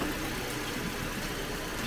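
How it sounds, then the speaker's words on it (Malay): A Perodua Bezza engine idles steadily after being started following an oil, gearbox oil and coolant change, a faint, even low hum under broad background noise with no voices. "Lepas tu kita start enjin"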